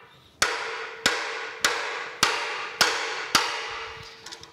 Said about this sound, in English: Take my lead hammer, put a little shock on it, and see if we can break it loose.